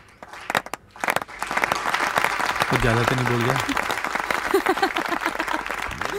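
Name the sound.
applause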